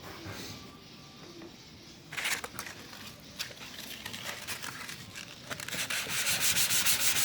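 Wet sanding of a wooden jewelry box with 400 grit sandpaper, steady close scraping strokes that start soft and grow louder and denser toward the end, with no speech.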